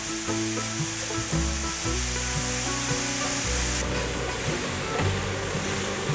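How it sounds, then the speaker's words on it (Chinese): Enoki mushrooms stir-frying in hot oil in a wok over medium-low heat, a dense continuous sizzle with stirring scrapes, close and fairly loud, with a faint steady hum and tonal music-like lines running underneath. "油热了之后放入金针菇， 把金针菇炒香"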